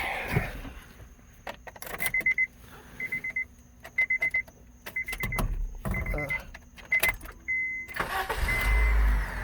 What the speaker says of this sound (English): You put your battery back on, and then you give it a quick start.